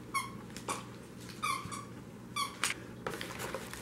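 Chihuahua puppies chew a dog toy, setting off its squeaker in a string of short high squeaks in irregular bursts, faint and close in a quiet room.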